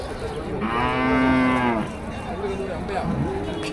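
A bull or cow moos once at a busy cattle market, a loud, close, drawn-out bellow lasting about a second, with background chatter and other market noise around it.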